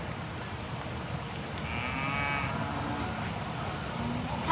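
Cattle at a junior market steer show in Arizona low a few times in a noisy arena, a clear moo rising midway over constant crowd murmur and indistinct voices.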